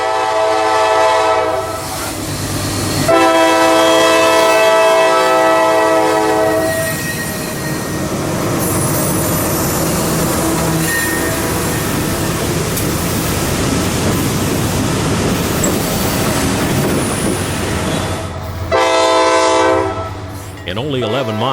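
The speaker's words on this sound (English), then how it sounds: "In just a few minutes, southbound Q453 emerges from the crew swap." Southbound freight train Q453 rumbles past near Waldo, its horn blaring loudly in long blasts over the steady roar of rolling cars, with another horn sounding near the end.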